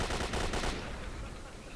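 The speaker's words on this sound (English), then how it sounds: "So you can see the gunfire off in..." A rapid burst of automatic gunfire in the shooter game STALKER: Call of Pripyat, rattling in a quick string for under a second before fading into a dull ambient wash, heard from far away across swampy terrain.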